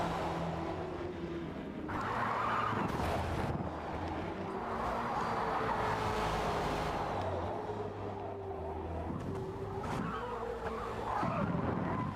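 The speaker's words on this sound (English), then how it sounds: "Microbio has another crisis on the track, losing it over the curbs, suffering some major snap oversteer issues with the Ferrari" A Ferrari race car in a racing video game snaps into oversteer over the curbs, its continuous engine drone mixed with faint tyre scrub and wind noise, heard at low level throughout.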